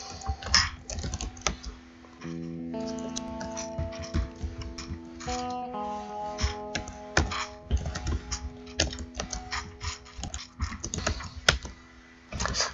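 Rapid, uneven clatter of computer keyboard typing, close and fairly loud, with bursts of keystrokes over a steady background of music-like tones, no talking.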